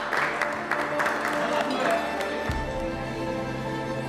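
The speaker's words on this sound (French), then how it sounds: "On applaudit la chef." An audience applauds a chef at a seafood meal in Puglia: dense, steady clapping for a couple of seconds that cuts off abruptly as music takes over.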